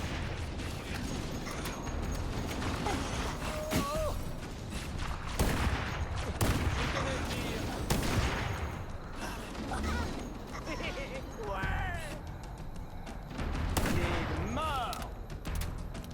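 Rapid bursts of gunfire in Halo: Combat Evolved crackle repeatedly over a dense, busy battle soundscape, with French voices calling out now and then.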